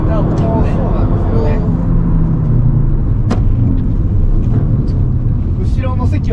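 A Mitsubishi Colt Ralliart Version R with about 160,000 km pulls hard from around 3500 rpm, its engine a steady droning hum heard from inside the cabin under continuous conversation.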